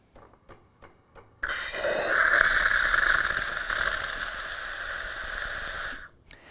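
A Gaggia Anima espresso machine's steam wand releases a loud, steady hiss of steam for about four and a half seconds, then cuts off abruptly, with a few faint clicks before it starts.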